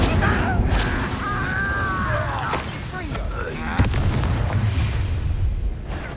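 Incendio fire spell blasts in Hogwarts Legacy, rumbling booms and bursts in a busy, loud battle with a voice talking over the action.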